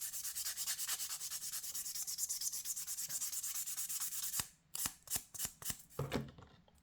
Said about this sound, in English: So just give that a really good buff down once it's all nice and activated there.